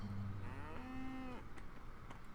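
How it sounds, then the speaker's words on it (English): A cow in the farming video game Coral Island lets out one drawn-out moo, fairly quiet, with no talking over it. "That's the other cow."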